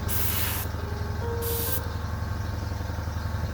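Two bursts of spray paint on model aircraft seats for an Auster, mimicking leather, each a loud steady hiss about half a second long, over a constant low compressor hum.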